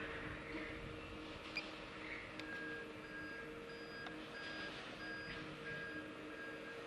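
A pre-mixed concrete lorry reversing at a concrete plant, its backup alarm repeating steady evenly spaced beeps over a constant engine rumble and yard noise.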